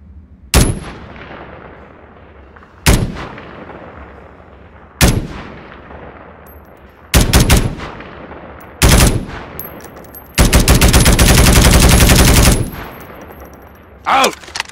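Simulated M4A1 rifle fire in a video game: several separate sharp shots spaced a couple of seconds apart, then a loud sustained automatic burst of about two seconds, ending with one more shot.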